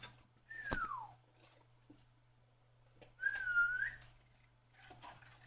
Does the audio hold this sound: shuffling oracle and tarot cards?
no